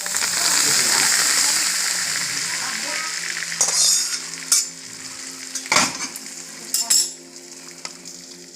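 Mustard oil heated with turmeric for chicken biryani sizzles loudly at first, then settles into a softer hiss broken by several sharp clinks and scrapes of a utensil against the pan. A voice is faintly present.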